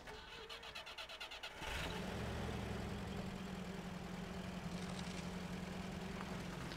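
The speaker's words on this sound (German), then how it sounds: "Können wir den Motor aber ausschalten hier?" Heavy timber truck engine in Spintires: Mudrunner, starting up after a few chugging cranks, then settling into a steady, loud low rumble at idle that carries on alone for the rest of the stretch.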